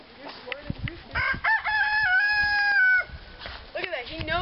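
A rooster crows nearby, a long rising call held for over a second, with clucking and scattered noises around it.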